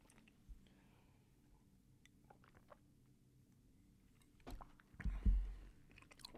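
Close-up chewing of marijuana right at the microphone: soft, wet, squishy bites that are faint at first and grow into louder crunching and mashing near the end, with no talking.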